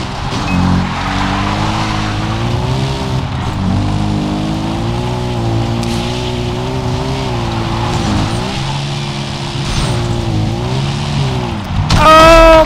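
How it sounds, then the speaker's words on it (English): Motorbike engine in Far Cry 3, revving and riding with a loud, close, droning tone that rises and falls as it shifts, ending in a sharp, louder burst near the end. "Here it is, my favorite motorbike."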